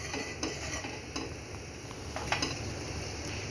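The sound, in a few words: mashing cooked dal with a ladle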